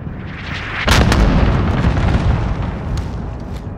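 Bombing run explosions in Call of Duty Warzone on the Verdansk map: a sudden loud boom followed by rolling, rumbling blasts with a few sharper bursts.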